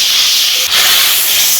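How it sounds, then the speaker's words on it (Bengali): Fish drop into a boiling mustard and cumin paste gravy, setting off a loud, steady hissing sizzle that runs throughout the brief moment. "ঝোল ফুটে গেছে, এবারে মাছগুলো দিয়ে দেব।"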